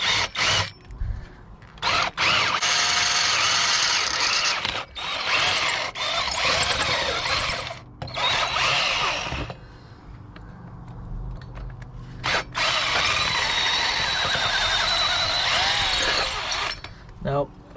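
A power drill whirs in several long bursts with brief pauses between, loud and close, with faint talk in the gaps, while modifying an old BMX bike.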